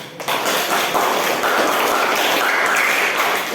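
Audience applause for a student group in a classroom presentation, beginning abruptly and then holding as steady, close, fairly loud clapping for several seconds.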